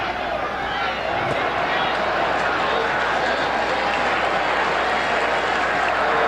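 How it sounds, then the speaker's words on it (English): Rugby crowd at a 1979 All Blacks versus Argentina test match applauding steadily, a dense, continuous wash of clapping and crowd noise with a commentator's voice faintly underneath. "People are not just clapping their hands to keep them warm"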